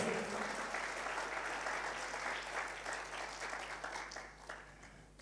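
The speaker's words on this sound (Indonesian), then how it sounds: "Sekali lagi saya minta, mungkin saya paksa, tepuk tangan yang lebih meriah." A church congregation claps in sustained, dense applause, steady and fairly distant, tapering slightly toward the end.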